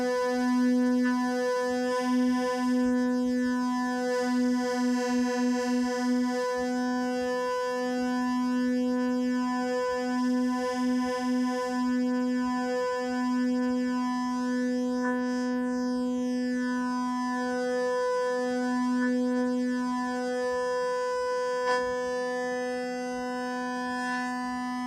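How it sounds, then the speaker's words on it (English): Oscillators of a Pro One analog synthesizer held on a low note during tuning, a steady buzzy drone with slow wavering and phasing as the pitches drift near unison, sustained evenly throughout with no talk. "you can see the frequencies beating there on the oscilloscope"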